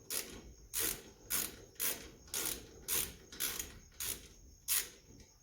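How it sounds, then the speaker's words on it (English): A hand ratchet tightens a brake caliper bolt on a Nissan Navara during a front brake change, giving about nine evenly spaced clicking bursts up close, each a short rasping ratchet stroke, with no speech. "you go in and you swap it with the ratchet"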